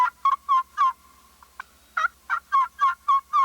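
A quick run of sharp, high-pitched yelps from a glass turkey call played with a striker, a brief pause with a faint squeak, then a steady rhythmic series of clucking yelps, close and clear.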